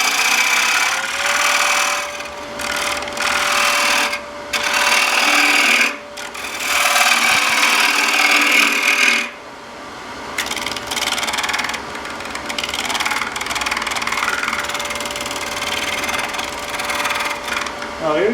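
A bowl gouge scrapes out the interior of a spinning wooden bowl on a lathe, a steady rasping cut that comes and goes in passes over a constant motor hum, loud and close.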